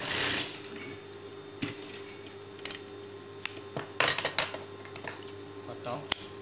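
A sewing machine stitches a kids' dress, giving close, intermittent mechanical clatter and ticking bursts with short pauses in between, over a quiet room hum.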